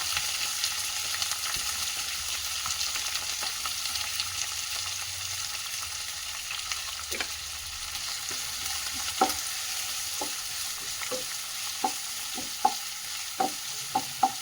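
Curry leaves and chopped onions fry in a pan with a steady, close sizzle, while a spoon scrapes and taps the pan in scattered strokes that grow more frequent toward the end.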